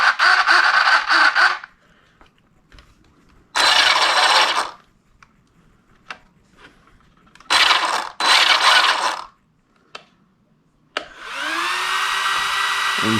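Steering servo on a Traxxas X-Maxx Max6 RC truck whirs in several short, loud bursts of mechanical grinding, separated by near silence and small clicks, ending in a longer sustained whine.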